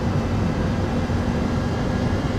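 Steady, loud roar of MD-11 thrust reversers during a landing rollout in X-Plane 12, a dense low rumble with broad hiss that holds constant throughout without pause or talk.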